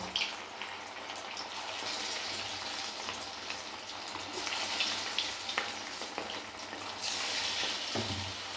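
Chicken pakoda pieces frying in a generous amount of reddish oil, a steady close bubbling sizzle with soft crackles throughout.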